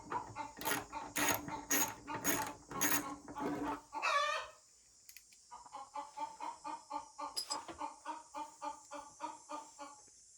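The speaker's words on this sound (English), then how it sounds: "If you've never had hens, you probably don't recognize this song." Backyard hens cackle their loud egg-laying song, a burst of sharp repeated squawks up close, then a quieter steady run of rhythmic clucks following a short pause.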